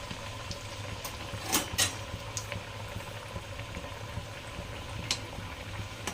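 Sarva pindi, a Telangana rice flatbread, fries in hot oil over a medium flame with a soft, continuous bubbling sizzle and a few faint pops and clicks, close by and with no talking.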